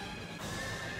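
A horse neighs loudly in the video game Drakengard, one sustained whinny running through the whole short moment with no talk.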